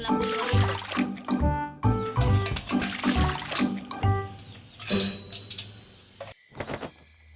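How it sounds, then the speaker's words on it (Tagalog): A white crow in Misamis Oriental bathes in a basin of water, flapping and dipping to throw out repeated close splashes in quick bursts, separated by short pauses, with a faint bird call at times. "dumiretso na siya sa palanggana para maligo"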